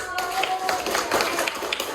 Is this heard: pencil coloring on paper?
no